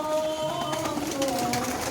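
Pigeons being fed in a breeding loft make soft, overlapping coos, a steady murmuring chorus close by with no pauses.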